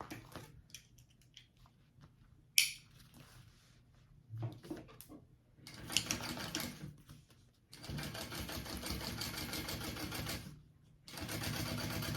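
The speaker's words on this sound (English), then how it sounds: "we're gonna top stitch along this piece here" A sewing machine top stitches along a bag pocket panel for a phone sling bag, running in several loud, steady bursts of rapid needle chatter separated by short pauses and small handling clicks.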